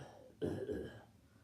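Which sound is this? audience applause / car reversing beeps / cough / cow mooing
cough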